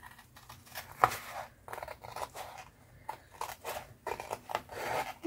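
Scissors snip through paper along a crease for a junk journal spine, a series of close, crisp cuts in an irregular rhythm with short pauses.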